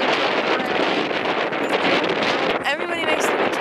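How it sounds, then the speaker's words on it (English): Strong, sustained wind of about 36 mph on a canyon rim in New Mexico, roaring steadily and buffeting the microphone for the whole stretch, loud and close with continuous gusty rumble. "it's super windy, like 36 mile an hour wind,"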